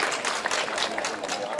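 Outdoor crowd clapping during a summer-opening ceremony at a market square and lakeside park, a dense, steady patter of many hands sustained throughout, with voices mixed in.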